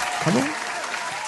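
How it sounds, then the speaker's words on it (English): Studio audience clapping during a live radio talk show, a steady wash of applause running throughout while a voice talks over it. "Yeah, let's clap that up."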